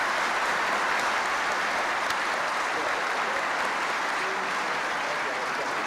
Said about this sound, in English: Now, can we hear some applause for these very distinguished guests?